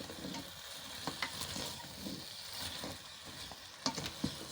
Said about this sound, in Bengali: সুন্দরভাবে নেড়েচেড়ে মিক্সড করে নিচ্ছি